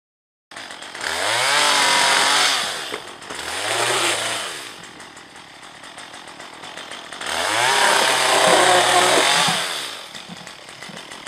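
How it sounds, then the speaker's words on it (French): A chainsaw cuts into an Asian hornet nest in brush, revving loudly in three long bursts with a drop to idle between them, close and harsh, no talking. "l'utilisation d'une tronçonneuse, c'est sacrément plus rapide, c'est très efficace"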